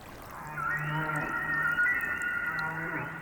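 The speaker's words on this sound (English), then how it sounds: "If the way whales transmit their songs remains a mystery" Humpback whale song: a long, sustained tonal moan with a steady pitch and smooth harmonics, drawn out over a few seconds with a slight rise toward the end, heard against a soft underwater hiss.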